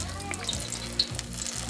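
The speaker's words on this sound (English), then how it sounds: "and then keep frying up our fritters." Apple fritters frying in hot oil, a steady close sizzle with soft bubbling and occasional pops throughout.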